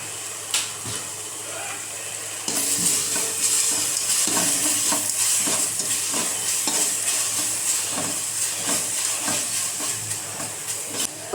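Onion, potato and carrot pieces frying in a pan for vegetable biryani, stirred with a spoon; a loud steady sizzle jumps up after a quiet start, punctuated by repeated scraping and tapping strokes.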